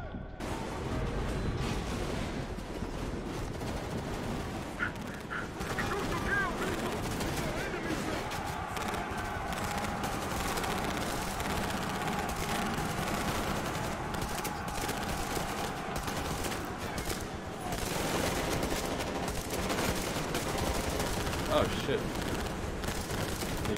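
Combat gunfire in Metro Exodus as defenders hold a position: sustained bursts and scattered shots rattle on for over twenty seconds at moderate level, mixed with shouting voices and battle noise.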